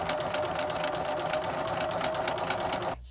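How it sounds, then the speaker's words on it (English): Sewing machine stitching quilt strip sets together, a steady, close, continuous mechanical whir that runs unbroken for about three seconds, then cuts off abruptly near the end. "continue sewing strip sets together until you achieve a strip set of the desired length, which matches the backing fabric"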